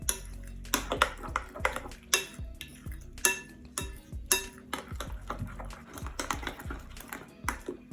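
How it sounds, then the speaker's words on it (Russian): Whisk or spoon stirring a batter of two eggs and water in a bowl, with a steady series of close clinks and scrapes against the bowl's sides, no talk. "Перемешиваем до однородной массы."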